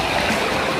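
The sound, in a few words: mountain river water flowing in Bhutan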